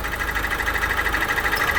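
Opel Astra K engine idling unevenly with a misfire, a steady close mechanical drone carrying a regular pulsing rhythm throughout, with no voices.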